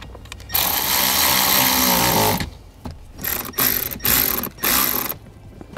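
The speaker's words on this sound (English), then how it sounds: "Go ahead and reinstall our screws in our panel." Ratchet or power driver reinstalling screws into a vehicle dash panel: a long buzzing whir, then several short bursts of fast ratcheting clicks, close and loud, no speech.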